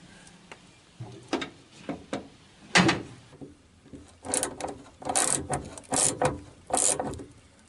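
Screws being driven from underneath to fasten the ventilation hatch on a Citroën Traction 11B, a series of close clicks, ratcheting scrapes and metallic knocks in irregular bursts, no talk.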